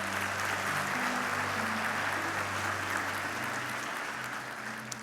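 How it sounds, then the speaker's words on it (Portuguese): Church congregation applauding Jesus after a prayer, a steady wash of clapping that holds evenly through the clip at a moderate distance, with a low sustained musical tone underneath. "Aplauda Jesus mais uma vez."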